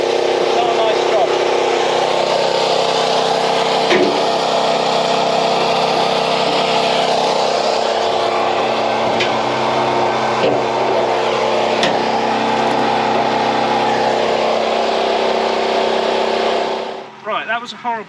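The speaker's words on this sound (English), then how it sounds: "To pressure wash it, try and get some of the gunk out and see what's behind it." A pressure washer blasts gunk from the inside of a Panhard AML 90 armoured car's fuel tank, a loud, steady broadband hiss with a motor drone beneath it that runs almost unbroken before cutting off near the end.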